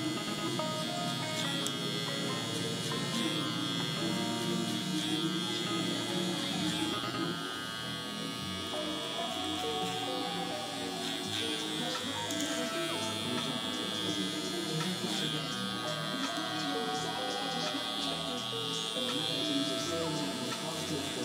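Electric hair clipper buzzing steadily and continuously during a clipper-over-comb taper haircut, close to the microphone with a constant motor hum and no talking.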